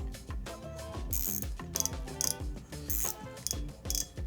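A Shimano Nasci FD spinning reel's drag clicks in rapid ratcheting bursts, close and crisp, with short stretches of faster buzzing clicks.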